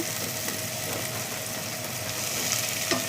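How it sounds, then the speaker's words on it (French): Carrots and peppers being stirred into a fish filling for African-style fish pastels, heard as a steady, continuous scraping and churning that runs unbroken and fairly close throughout, with no voices. "Je mélange."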